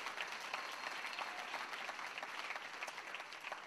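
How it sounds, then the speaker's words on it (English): A church congregation claps their hands in praise during a sermon, steady dense applause from many people filling the room, moderately loud and unbroken, with no voices over it. "Would you clap your hands and give praise to the Almighty God?"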